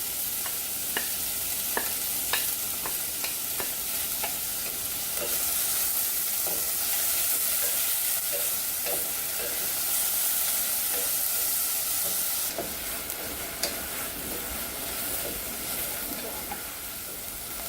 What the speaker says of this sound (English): we're going to add our onion to the oil first